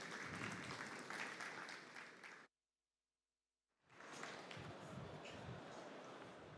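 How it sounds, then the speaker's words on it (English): Applause from a conference audience welcoming panelists onto a stage, a dense roar of clapping that cuts to silence for over a second and then swells back in, strong and sustained. "Please give them a huge round of applause to welcome them out onto our stage."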